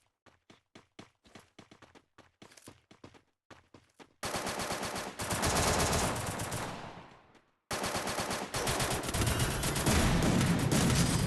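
Gunfire in a shooter video game: rapid isolated shots in quick succession, then two long, loud bursts of continuous automatic fire separated by a short pause.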